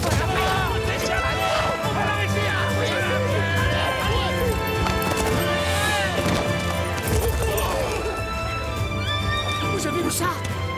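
A horse gallops with rapid, continuous hoofbeats amid shouting voices, clatter and dramatic music in an animated Zorro action scene.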